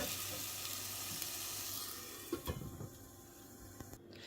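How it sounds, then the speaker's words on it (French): Onion sautéing in a pan for Algerian sfiria sauce, a soft, continuous sizzle with a few scraping stirs near the middle, fairly quiet and with no talking. "Laissez revenir, comme je vous ai dit, jusqu'à ce que l'oignon prenne une belle couleur dorée"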